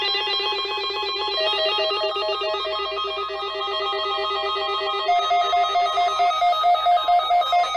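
Emergency Amber Alert tone from a phone, a loud, harsh, steady two-pitch electronic warble sounding continuously on its own.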